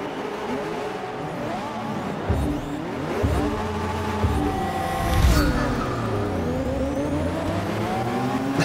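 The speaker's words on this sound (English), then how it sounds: "I really like the way these Formula E cars sound." Formula E electric race cars in the video game Forza Motorsport 6 whine past at a high, steady pitch, with loud overlapping engine tones rising and falling and occasional tire noise, continuous throughout.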